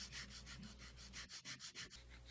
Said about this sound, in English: we are going to start sanding the sides because we really need to emulate that V shape that the bone folder has